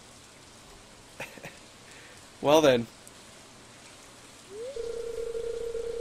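Rain patters softly and steadily in Stardew Valley, a faint even hiss under short game chimes, a brief voice and a sustained tone near the end.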